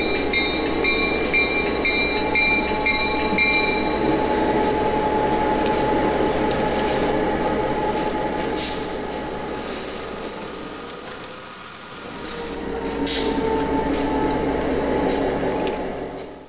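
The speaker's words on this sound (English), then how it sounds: "Here's the consist coming out of my engine yard in Kingsport." Bachmann and Athearn model train locomotives running together on a DC layout, rolling out of an engine yard with a continuous rumbling whir and faint wheel clicks and squeals, fading briefly before picking up again.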